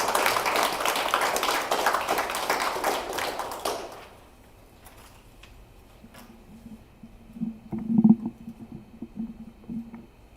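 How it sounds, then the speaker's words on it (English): An audience at a poetry showcase claps in a full burst that fades out after a few seconds, leaving a quiet room with a few soft knocks and taps. "Let's have a round of applause for some poetry."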